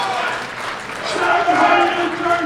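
A lively crowd at a world open powerlifting championship, men's 105 kg class, cheers and applauds as a lifter prepares for a heavy bench press, a steady roar that swells toward the end, with commentary voices talking over it.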